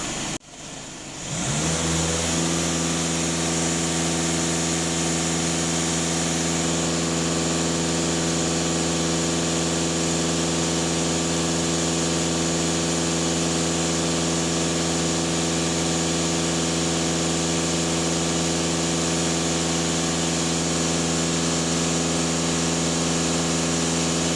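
Warmed-up diesel engine of a VW Passat B8 with a soot particulate filter, idling steadily after a brief start-up at the beginning; a loud, even hum that holds for over twenty seconds with no talking.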